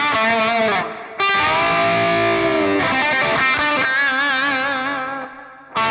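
Electric guitar played through a Vailton multi-effects unit, a distorted, processed tone with chorus and reverb, sustained chords and ringing notes filling the clip with a brief drop near the start, loud and close with no talking.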